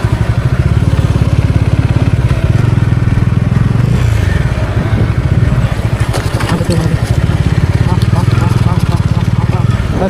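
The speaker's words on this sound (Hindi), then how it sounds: "यहाँ पे 2-4 बाइक तो आ रही" Several motorcycle engines rumble and idle close by as bikes arrive at a bikers' meetup, a steady throaty drone with occasional revs, while people talk over the noise.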